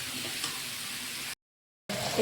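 A brief, soft sizzle of pumpkin and potato frying in oil is cut by a short silent gap, then resumes with a few faint clinks.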